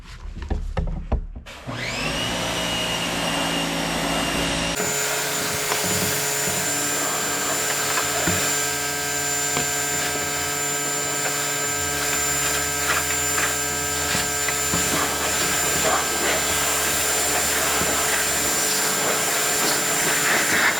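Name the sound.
rinsing off a car wheel and tire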